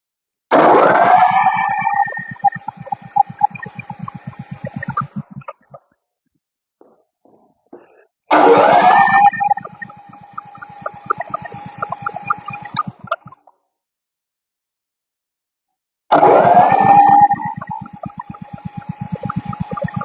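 A small standby engine auto-starts after a button press during a winter power outage, running in three separate bursts each about five seconds long with a low pulsing rumble and a tonal hum, with quiet gaps in between.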